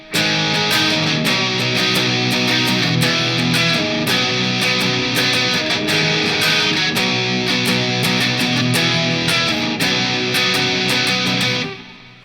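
A distorted electric guitar plays sustained chords at full, steady loudness, running in a dense wall of sound before stopping near the end.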